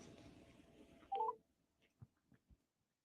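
Telephone dialing tones as a call is placed: one short, faint keypad beep followed by a few soft clicks in otherwise quiet surroundings.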